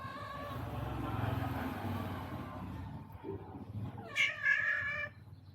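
A visiting male cat gives a strange, drawn-out, wavering meow, like a caterwaul, over low rumbling vehicle noise. A sharper, higher meow rises near the end.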